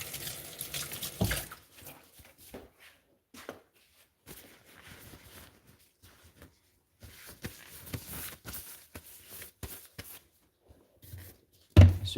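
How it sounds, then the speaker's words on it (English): A hand is rinsed under a running kitchen tap after prepping redfish, giving short, soft splashes of water that come and go, quiet and close, ending in one louder splash. "Rinse my hand off real quick."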